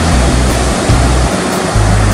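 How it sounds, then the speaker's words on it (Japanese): Large ocean swell breaks as dumping surf at a home surf point in near-windless conditions, making a loud, continuous roar of crashing waves with deep surges rising and falling. "波を選んでもほぼほぼどの波もダンパーですね。"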